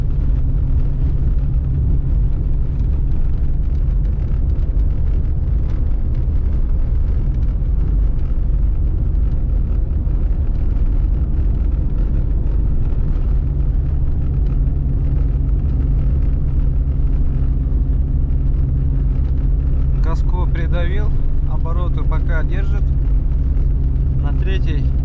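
A Toyota Passo's engine drones steadily in third gear at about 2000 rpm, pulling hard uphill while being towed in -50°C cold, its low hum loud and constant throughout, with a brief burst of higher sound near the end.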